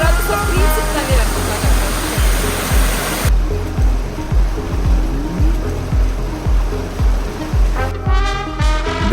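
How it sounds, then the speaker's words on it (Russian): A steaming hot river in Iceland flows and splashes loudly close by on a cold day. Water rushes in a continuous wash with a pulsing rhythm. "Горячая речка."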